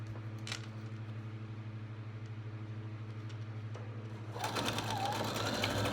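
A sewing machine hums steadily up close while stitching a Dresden Plate quilt petal, then grows louder and busier near the end as the stitching speeds up, with no talking.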